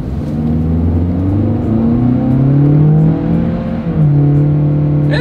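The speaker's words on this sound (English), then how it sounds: "let's see how quickly we can get our new 2024 Corolla Cross here up to speed" A 2024 Toyota Corolla Cross, an AWD compact SUV, accelerates hard from a standstill, its engine droning loud and steady from inside the cabin with rising harmonic tones and a brief dip near the end.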